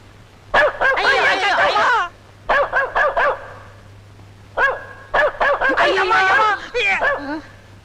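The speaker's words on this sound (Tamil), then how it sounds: "அதுதான் நாய் குலைக்குது" A dog barks repeatedly in quick clusters of sharp, loud yaps, with short pauses between bursts and a steady low hum underneath.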